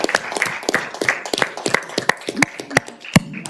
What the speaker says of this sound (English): I was going to say everybody to clap in appreciation, but you already did